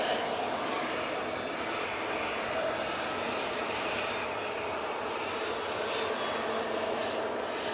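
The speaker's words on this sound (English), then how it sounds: "Little Embraer." A small Embraer airliner approaches to land at Manchester Airport in stormy weather, its engines giving a steady, moderately distant broadband roar with wind noise.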